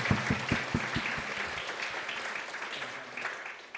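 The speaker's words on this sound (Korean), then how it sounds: "우리 환영의 박수 한번 합시다." Welcoming applause from a congregation at a Sunday church service: a few sharp claps up front swell into a soft, steady patter of many hands, fairly distant and gently tapering off.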